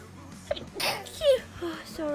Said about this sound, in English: I might sneeze in a second